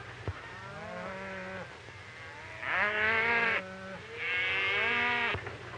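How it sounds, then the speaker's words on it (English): Several cattle moo in turn, long drawn-out calls at moderate distance, two of them louder and higher, with a quiet outdoor background. "Look at all them cattle over there."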